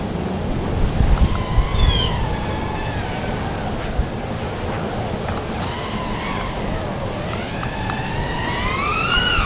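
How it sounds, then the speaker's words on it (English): Strong wind buffets the microphone outdoors, a constant rumbling roar with whistling tones rising and falling, and a voice briefly heard beneath it. "It's fucking windy out here."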